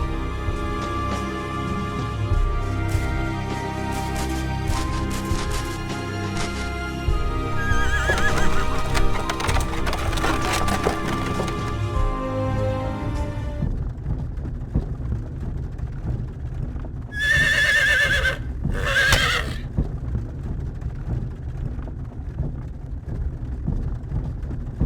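A horse-drawn wagon sets off in the video game Star Ocean 3: a horse whinnies and hooves clip-clop steadily over a game music bed, with two bright bursts of effects near the end.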